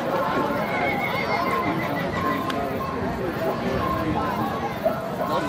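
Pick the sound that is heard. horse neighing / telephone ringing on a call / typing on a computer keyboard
horse neighing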